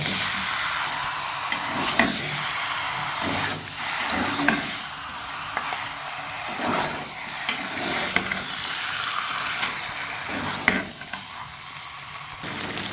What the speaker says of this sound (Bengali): এই মশলার সাথে এই মাংসটা কিছুক্ষণ ভেজে নেব